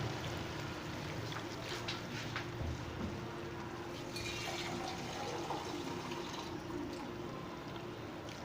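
Water pours into a cooking pot of spiced potatoes and French green beans in a home kitchen, a steady splashing fill running continuously at moderate level with no talk.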